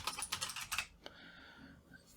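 Fingers tap out a quick burst of clicky keystrokes on a computer keyboard, then stop after about a second, leaving quiet room noise.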